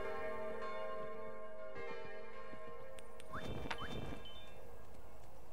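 Church bell tolling in the video game Kingdom, a few resonant strikes with long ringing decay over a quiet ambient bed, ending in a brighter cluster of tones.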